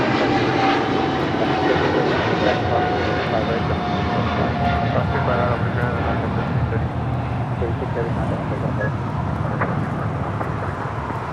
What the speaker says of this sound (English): This is American 136 Heavy taking off to London Heathrow on a 777-300ER.